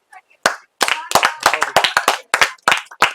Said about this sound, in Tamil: இன்னும் ஒரு விண் அதிர கரகோஷத்துடன்